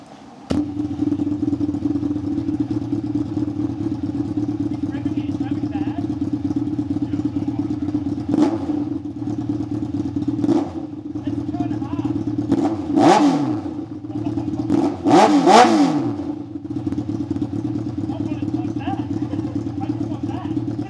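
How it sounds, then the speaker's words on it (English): A 2006 Suzuki GSX750F motorcycle with its exhaust removed idles with a loud, raw, steady drone, punctuated by several sharp revs that rise and fall, while people talk nearby. "This is what it sounds like without an exhaust."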